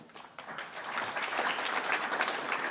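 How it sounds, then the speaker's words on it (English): A crowd at a 2023 State of the Village address breaks into applause, starting after a short lull and building into steady, dense clapping that fills the room. "round of applause"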